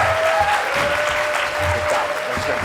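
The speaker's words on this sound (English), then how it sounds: "Please give a big round of applause for our panelists." Applause from a convention audience for the panelists at a TV writing panel, a dense sustained clapping that holds steady and full throughout without letting up.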